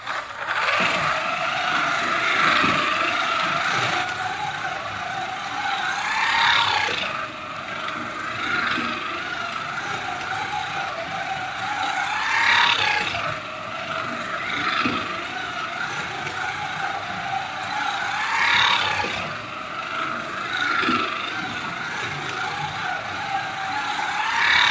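A 1/32 scale Team Slot Alfa Romeo GTV slot car runs laps around a track, giving a steady whirring motor buzz with a rhythmic swell every few seconds as it passes close, then fades along the far straights.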